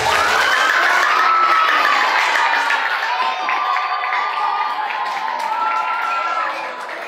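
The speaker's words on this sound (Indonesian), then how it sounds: "Tepuk tangan semuanya" A crowd at an Indonesian gathering with Kiai Haji Ate cheers and shouts loudly, high excited voices mixed with some clapping, fading slightly toward the end.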